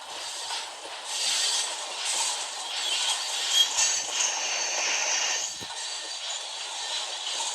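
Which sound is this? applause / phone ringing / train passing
train passing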